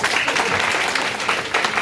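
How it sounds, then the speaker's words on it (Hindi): Audience applause for a guest at a World Braille Day quiz competition, a dense steady patter of many hands clapping throughout, fairly loud and unbroken. "सर को बहुत बहुत तालियां सर के लिए"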